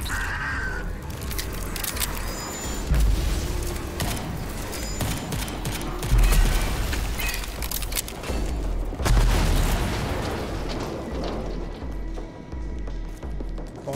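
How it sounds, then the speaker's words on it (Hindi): Gunfire in the shooter game Rage 2: sustained bursts of shots and heavy booming impacts roll on and off, loud and dense, with crashes and explosive thuds mixed into the action. "कौन पागल बागड़ बिल्ला इतनी गोलियां मार रहा है भाई।"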